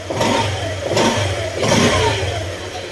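A Honda Click 125 scooter engine revs up and down in a few close, loud surges, settling back toward idle between them.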